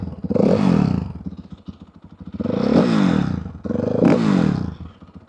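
Motorcycle fitted with its stock exhaust, revved three times in close succession, each a loud barking rise and fall with brief idle lulls in between, near and alone.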